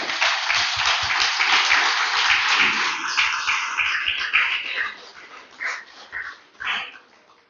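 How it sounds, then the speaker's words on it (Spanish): A church congregation at a Spanish-language sermon applauds for the Lord, a loud burst of clapping that thins into scattered claps and voices toward the end. "Déselo fuerte el aplauso al Señor"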